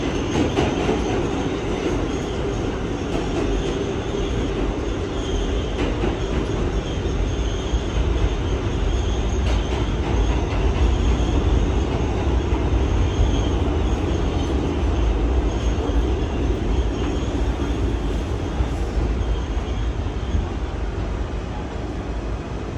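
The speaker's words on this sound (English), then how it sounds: "This is a Brooklyn-bound C local train." A New York City subway R211T open-gangway train running as a Brooklyn-bound C local, recorded from inside as a loud, continuous rumble with rail clatter and occasional wheel squeal.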